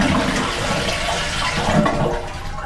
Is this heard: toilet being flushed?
yes